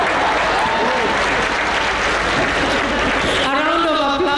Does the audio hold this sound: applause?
yes